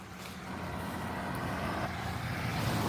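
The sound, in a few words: UPS truck driving past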